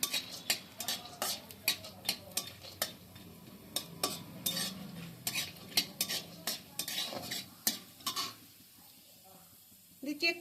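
Chana dal and raw peanuts fry in oil with a dried red chili in a pan, a spatula scraping and clicking against the metal in repeated strokes over a faint, close sizzle.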